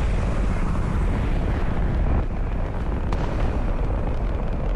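A rocket lands and blows up in Fortnite, a loud, sustained roaring blast with a rumbling, wind-like wash that fills the whole stretch without a break.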